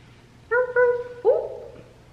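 A puppet dog gives a small, high yap and then a short whine, three quick little calls close by and clear against a quiet room, likely voiced by a person imitating a dog.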